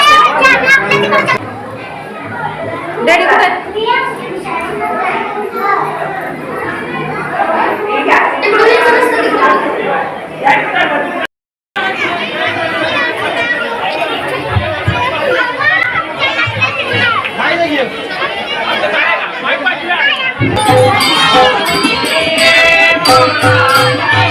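Dense crowd chatter at a Deepotsav temple darshan, many voices overlapping continuously with children's voices mixed in, loud and close, briefly cut off then resuming.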